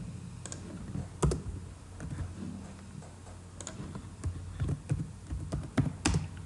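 Typing on a computer keyboard, scattered clusters of close, crisp key clicks with short pauses between bursts, growing busier toward the end.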